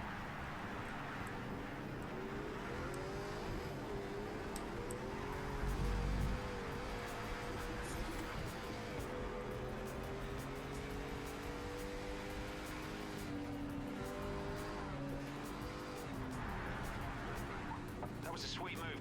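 A Project CARS 3 race car engine drones steadily, its pitch climbing and dropping through gear changes while a voice talks over it.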